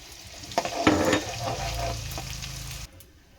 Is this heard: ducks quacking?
no